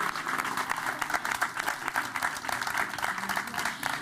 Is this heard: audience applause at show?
yes